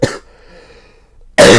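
A short burst of coughing while laughing, loud and close, with a second harsher burst after a quiet gap.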